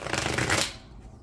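Tarot cards being shuffled close by in one quick, crisp riffling burst that fades after about half a second, with no voices.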